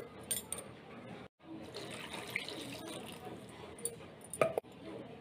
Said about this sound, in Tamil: இது மாதிரி ஒரு 2 தண்ணி ஊற்றி நல்லா கழுவி எடுத்துக்கலாம்.